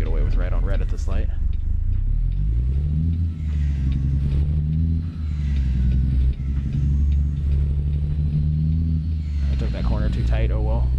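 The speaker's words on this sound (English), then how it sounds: "This modded engine is something I really like. It sounds really good." A modded truck engine rumbles steadily while driving, its deep, loud drone running continuously under a driver talking along the way.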